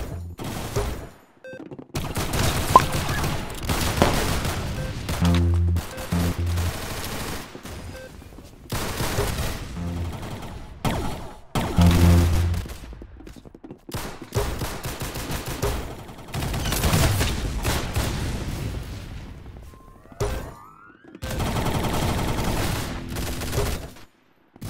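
Rapid bursts of automatic gunfire in the Roblox Arsenal shooter played on mobile, loud and dense, coming in repeated volleys separated by short pauses.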